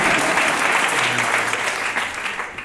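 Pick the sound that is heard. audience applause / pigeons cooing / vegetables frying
audience applause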